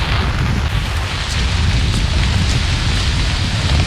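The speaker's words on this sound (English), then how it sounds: "It's 3 o'clock in the afternoon and it's raining heavily." Heavy afternoon rain pours down steadily outdoors, a dense, loud, even hiss of countless drops hitting surfaces with no pauses and no voices.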